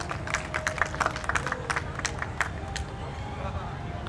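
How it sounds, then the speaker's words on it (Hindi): Audience applause at the opening of a handloom and handicraft expo and trade fair in Patna: a burst of crisp close claps over a murmuring crowd, thinning out toward the end. "क्या बात है, तालियां बजती रहनी चाहिए।"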